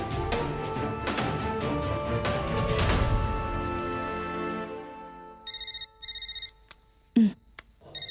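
A telephone rings at night inside a home. Music fades out first, then the phone gives several clear electronic rings in evenly spaced bursts, with a brief thump partway through.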